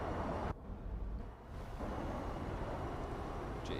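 A Swedish jet in War Thunder on the runway, its engine a steady, loud broadband roar that dips briefly and then returns to a constant rush.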